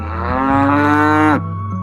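A water buffalo tied to a tractor moos once, loud and close: a drawn-out, bellowing call lasting over a second, then cutting off into quiet.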